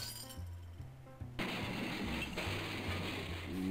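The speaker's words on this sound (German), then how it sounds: "Potztausend, das ist Glas." Glass clinks and rattles inside a cardboard box in the game Edna bricht aus, short bright jingles that swell into a denser, louder shaking of the contents.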